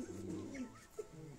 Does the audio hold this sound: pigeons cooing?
yes